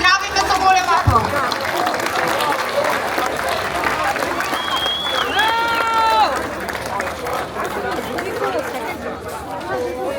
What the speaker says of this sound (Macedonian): Да ги поздравиме со голем аплауз.